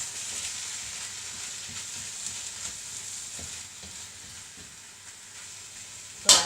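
Sweet and sour chicken with carrot noodles sizzles steadily in a frying pan while being stirred, a continuous close hiss with soft scraping and a sharp clatter at the end, no voices.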